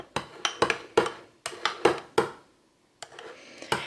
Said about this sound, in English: we're going to go ahead and stir that around